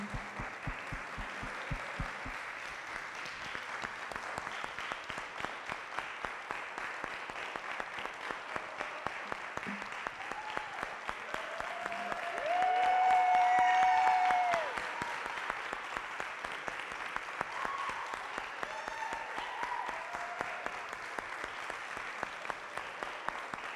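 An audience claps in a dense, sustained round of applause that swells briefly in the middle before settling back to steady clapping, with a few faint voices underneath.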